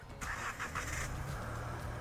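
A 2026 Nissan Rogue engine, remote-started, turns over and settles into a low steady idle, starting briefly with a few sharp mechanical bursts before the hum continues.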